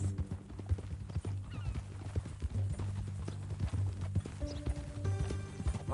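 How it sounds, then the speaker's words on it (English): Horse hooves clip-clop in a steady walking rhythm in a Red Dead cowboy game, with an occasional whinny and low ambient music beneath. "That a new horse?"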